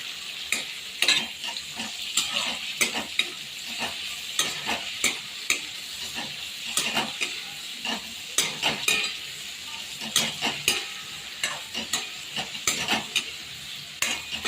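Onions fry in a pan for sambhar, a constant bright sizzle broken by frequent sharp scrapes and taps of a spoon stirring against the metal, close and fairly loud throughout.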